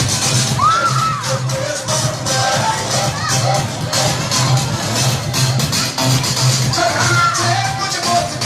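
An audience at a poetry recital during an annual function at a cerebral palsy rehabilitation and physiotherapy centre claps and cheers loudly and continuously, with whoops and excited shouts rising above the noise.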